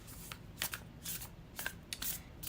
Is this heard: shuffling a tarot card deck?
yes